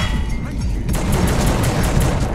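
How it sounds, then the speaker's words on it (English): Grenade launcher fire in The Suffering video game: a steady stream of loud, closely spaced blasts and booms that begins suddenly about a second in and continues without letup. "Is he firing grenades down here?"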